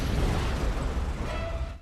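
Animated firefighting-movie scene of a plane crashing into a pole, a dense roaring explosion and fire blast sustained loudly for under two seconds before cutting off abruptly.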